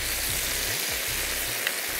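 Barbecue sauce hits chicken livers in a hot pan for peri chicken livers, producing a loud, steady hiss of sizzling close up, with no talking.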